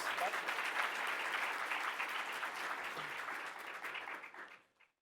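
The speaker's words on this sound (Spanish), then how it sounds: "Igualmente agradecemos al panel con un voto de aplausos." Sustained audience applause for a panel at the close of a round-table session presenting technical debate conclusions, a dense steady wash of many hands clapping that fades away in the final half second.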